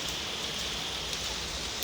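Steady rain falling over farm fields after two days of rain, a dense continuous hiss of drops on surfaces with no voices.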